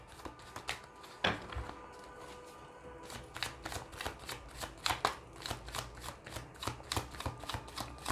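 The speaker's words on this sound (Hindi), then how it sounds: "जब तक मैं शफल कर रही हूँ" A deck of tarot cards is shuffled by hand, giving a steady run of crisp riffling snaps and soft slaps, close and fairly quiet with no talking.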